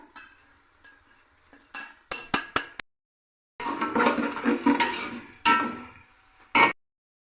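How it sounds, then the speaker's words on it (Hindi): Garam masala, salt, turmeric and chicken cubes roast in ghee in a pan: a few spoon clanks and scrapes, then a loud burst of close sizzling, with short silent gaps between. "इन सबको डाल के अच्छे से भून लेंगे घी के साथ"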